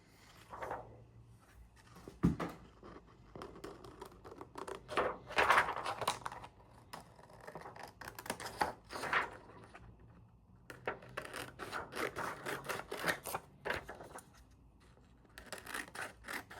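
Scissors snip through paper for an art journal, faint and close, with repeated crisp cuts in uneven bursts and small rustles of paper between them.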